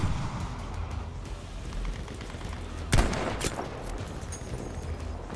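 A Kar 98K bolt-action rifle fires in Battlefield 5, one sharp loud crack about three seconds in, followed by a fainter echoing shot over constant battlefield ambience.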